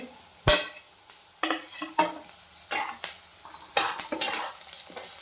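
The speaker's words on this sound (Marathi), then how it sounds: "तिला पण 1 मिनिटभर आपल्याला छान परतून घ्यायचं आहे" Green chilli and onion being sautéed in a pan, with repeated clatters and scrapes of a spoon stirring against the metal over a low sizzle, close and fairly loud, no talking.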